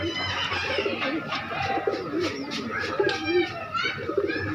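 Pigeons cooing in throaty, repeated rolls close by, mixed with other chirps and background voices.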